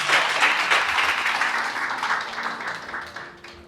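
A church congregation applauding at a prophetic worship service, dense steady clapping that holds loud and gradually thins out toward the end.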